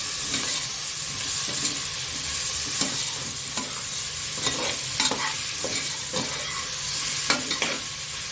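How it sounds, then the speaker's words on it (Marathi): Vegetables with potato for undhiyu are stirred and sautéed in a pan, a soft steady sizzle with scraping stirring strokes recurring at irregular intervals. "हे सगळं आपण व्यवस्थित परतवून घेणार आहोत."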